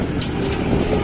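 Swaraj tractor engine labouring up a slope, a steady broadband diesel rumble with low throb held at constant loudness throughout, fairly close and alone.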